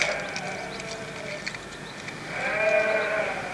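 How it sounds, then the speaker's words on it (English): Lakeland Swaledale sheep bleat on a farm, several wavering calls near and far with a louder bleat toward the end, over outdoor ambience. "That's a type of sheep, really."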